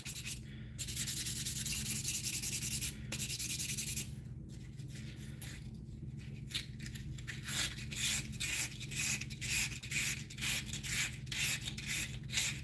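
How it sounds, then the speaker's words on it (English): Sanding a small wooden Avro model in a workshop, steady rasping strokes that become a regular back-and-forth rhythm of short rubbing passes, close and fairly quiet with no talking. "I'm just trying to get some of the sanding done here today"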